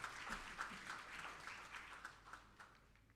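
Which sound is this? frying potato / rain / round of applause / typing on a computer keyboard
round of applause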